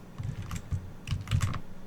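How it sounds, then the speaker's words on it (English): Computer keyboard keys clatter in quick irregular bursts while a game of Slither.io is played, close and fairly loud with no talking. "we're just going to have to deal with the clicking"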